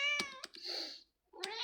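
A house cat gives a couple of short, close meows in quick succession, with a brief quiet gap between them and no talking.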